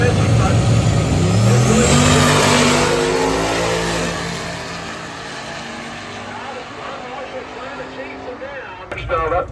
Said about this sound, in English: Wallace driving the supercharged Nova.